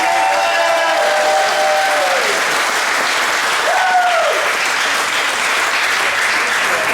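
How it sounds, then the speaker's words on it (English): Applause at a 2021 school moving-up ceremony honours the graduates as a large crowd claps steadily and densely for several seconds, with faint voices and a few brief tonal sounds rising above the clapping. "how about a round of applause for all of our graduates?"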